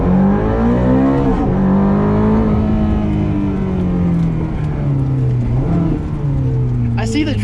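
A 2007 Ferrari F430 engine revving hard and accelerating, a loud sustained roar with rising and falling pitch through gear changes, heard close over several seconds.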